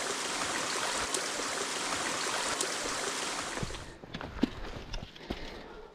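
A mountain stream rushes down a waterfall on the Franconia Ridge trail in New Hampshire, a loud steady broadband roar that cuts off abruptly near the end, leaving quieter scattered footsteps and knocks.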